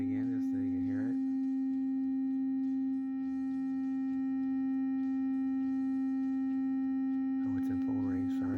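A steady sine tone plays through a Peavey MegaBass bass amplifier in biamp mode, a loud continuous pure pitch with faint overtones. A brief warbling sweep comes at the start and again near the end.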